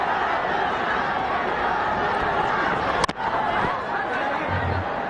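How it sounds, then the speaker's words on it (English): A noisy crowd at a cricket stadium keeps up a steady roar of chatter and cheering, with one sharp crack partway through. "a very, very noisy crowd, but a good crowd in."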